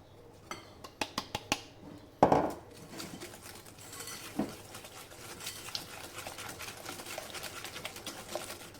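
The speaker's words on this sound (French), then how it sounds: "On va battre nos 3 œufs" Three eggs being beaten with sugar for an apple cake, a quick burst of whisk clicks against a bowl, a sharper knock, then a faint steady scraping and tapping rhythm, close and quiet.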